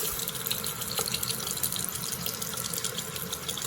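Water and built-up pressure released from a home hot water heater after the power and supply are shut off, a steady hissing rush of water running continuously, fairly faint and with no talking.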